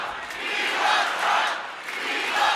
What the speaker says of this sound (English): Viva Trump, they're saying now.